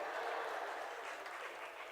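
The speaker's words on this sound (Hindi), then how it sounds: "तालियां बज गई।" Faint, distant applause from an audience at a spiritual discourse gathering, a brief, even patter of clapping lasting under two seconds.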